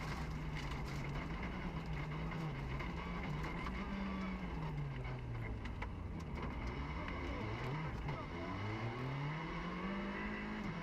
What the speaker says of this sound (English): trying to increase his speed at the wheel of the VW Polo